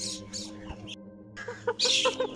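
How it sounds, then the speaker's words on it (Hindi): Chickens cluck in short bursts on a farm while being fed grain, the calls close by over a steady low background hum. "और साथ अभी मुर्गियों को दाना भी डाल रहे हैं"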